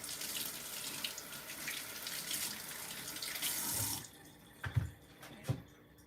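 Potatoes being washed under a running kitchen faucet: a steady splashing stream for about four seconds, then the tap stops, leaving a few drips and clunks of handling in the sink.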